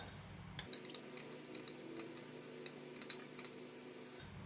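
Utensil clinking against a bowl while stirring a pepper and oyster sauce mixture for egg tofu with minced pork, a series of quiet, irregular metallic chinks over a low steady background with no talking.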